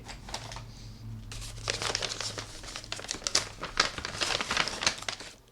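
Package of pencils from Taipei being opened, a run of loud crinkling and tearing bursts of wrapping close to the mic, with a low background hum.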